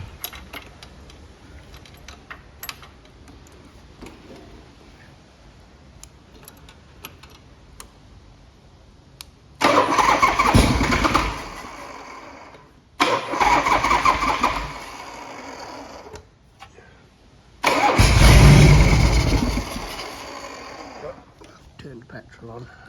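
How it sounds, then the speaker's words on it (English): A 1981 Harley-Davidson Shovelhead Tour Glide Classic, needing recommissioning and with a leaking carburettor, is cranked in three loud bursts of about three seconds each. Only the last one catches briefly, with faint clicks and handling noises in the gaps. "Let me start it up."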